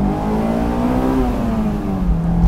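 A Honda S2000 engine revs hard toward its 8,000 RPM redline, a loud, continuous rising wail with a steady harmonic whine that climbs and settles, close and alone with no talk.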